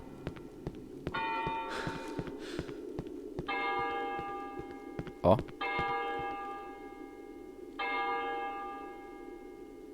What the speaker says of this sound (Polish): Tutaj wybił dzwon